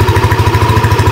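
Yamaha Aerox V2 scooter engine idling steadily during a coolant flush, a close, loud, even low throb with a regular pulsing rhythm and no talk.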